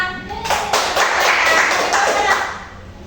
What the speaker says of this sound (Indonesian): Oke, tepuk tangan untuk Hana.